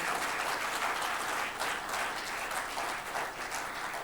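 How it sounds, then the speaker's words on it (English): Audience applause at a talk on social and economic development, a steady, fairly distant wash of many hands clapping for about four seconds with no speech. "So please give her a bigger round of applause."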